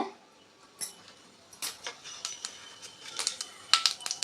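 Mustard seeds splutter in hot oil in a quiet kitchen, starting sparse and building into a flurry of sharp, close pops and crackles toward the end.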